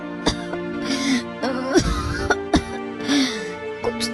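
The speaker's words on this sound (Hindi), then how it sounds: "ये कैसी खांसी है?" A woman in a rural Indian courtyard gives several harsh coughs and throat clearings in uneven bursts, close and fairly loud, with strained breathy sounds between them and no clear speech.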